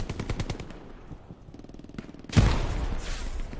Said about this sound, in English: MG fight now.